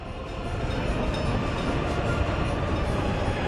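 A train rumbling past in the city-building game Workers and Resources: Soviet Republic, a dense, steady roar of wheels and carriages held throughout, fairly loud with no voices over it.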